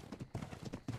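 Horse hooves clip-clop in the ARK video game, a quick, close run of muffled thuds repeating in an uneven trotting rhythm over about a second.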